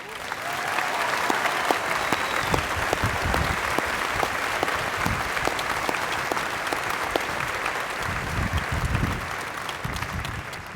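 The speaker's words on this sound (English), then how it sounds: "Please join me in a round of applause for our drill sergeants and their cadre." A large ceremony crowd at Fort Benning applauds drill sergeants and their cadre, a dense, sustained wash of clapping lasting several seconds with occasional louder individual claps.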